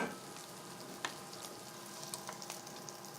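Bacon sizzles steadily in a pan with rendered bacon fat, a continuous soft crackle with scattered pops and an occasional stir, fairly faint and without speech.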